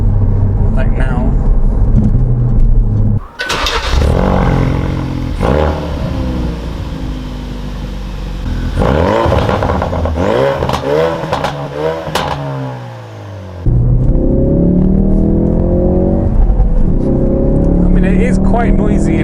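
A Ford Focus RS engine revs hard through its exhaust, rising and falling in surges with brief gaps and a sharp pop, heard loud from inside the cabin while someone talks over parts of it.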